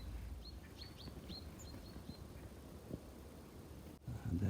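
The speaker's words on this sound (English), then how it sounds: "if you listen very carefully and watch very carefully, you can see birds down there in the hedgerows" Small birds in snowy hedgerows chirp faintly from a distance, a handful of short, high tweets scattered over a low wind rumble, with a brief knock near the end.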